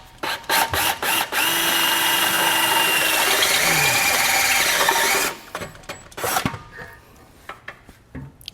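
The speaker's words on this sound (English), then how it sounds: "So I'm using a step bit and I'm just going to slowly enlarge the hole" A drill with a step bit whines loudly for several seconds as it enlarges a hole for a trailer hitch receiver on a 2019 Fiat 500, preceded and followed by short trigger bursts and clicks.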